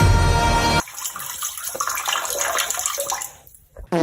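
Water splashes and pours in bursts, with a faint background voice, then stops briefly before splashing resumes.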